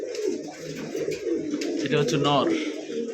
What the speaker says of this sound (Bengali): এখানে চলে আসলো একবারে লাল টকটকা একজোড়া বোম্বাই কবুতর